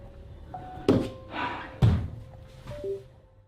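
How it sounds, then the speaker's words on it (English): A door swings open by itself in a quiet room, giving two loud thunks about a second apart with softer knocks and rustles between them, and no voices. "you might have missed the doorknob moving just before the door opened on its own"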